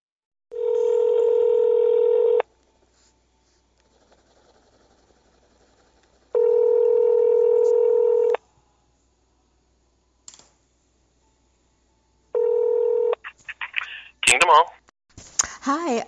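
A telephone line sounds three loud, steady electronic tones, each lasting about two seconds and separated by silence. The last tone is cut short, and a person then begins speaking.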